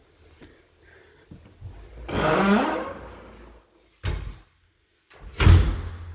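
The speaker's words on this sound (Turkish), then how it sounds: "Çelik kapımızı kapattıktan sonra" Heavy steel front door at the entrance of a detached villa swinging shut, a loud close with follow-up thuds and knocks nearby, no talking.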